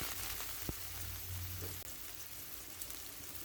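Sliced onions, about a cup, sizzling steadily in hot white cooking oil in a pan on the stove, a continuous close frying hiss with a brief clatter partway through and no talking.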